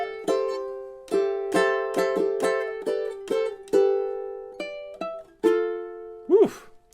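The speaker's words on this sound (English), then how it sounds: "And the pair together, measures 12 and 13, should sound something like this." Two measures of a ukulele melody, a steady run of about a dozen close, clear plucked notes and chords with ringing decays, ending in a brief upward slide or bent note, played solo without talking.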